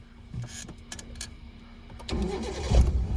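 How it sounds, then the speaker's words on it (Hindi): A car engine is started with the clutch pressed: a few clicks and rustles, then the starter cranks and the engine catches into a louder, rumbling idle. "अब इंजन ऑन करो क्लच दबा के"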